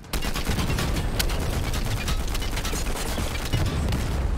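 Rapid automatic gunfire from a weapon in the Fortnite video game is sprayed in a dense, loud burst of shots that continues without a pause.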